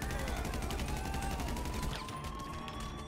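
Rapid gunfire in the video game GTA 5, a dense stream of repeated shots that thins slightly toward the end, loud and continuous with no talk over it.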